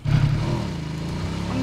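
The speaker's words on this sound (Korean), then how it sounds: "앞에 오토바이 있다." A motorcycle engine in the video game PUBG (Battlegrounds) hums steadily at a low pitch, close and continuous, with people talking over it.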